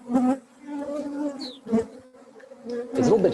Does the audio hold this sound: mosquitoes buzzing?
yes